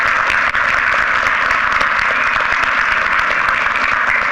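A crowd at a community meeting in Ormond Beach claps in a steady, dense round of applause that stays loud and unbroken throughout.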